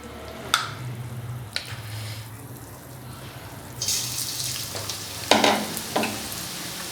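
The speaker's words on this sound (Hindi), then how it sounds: "अब हम पकौड़े तलना स्टार्ट करते हैं।" Punjabi-style pakoras for kadhi frying in hot oil over a medium flame, a soft sizzle that swells louder partway through, punctuated by several sharp clinks and splashes as pieces go in, nearby and with no talking.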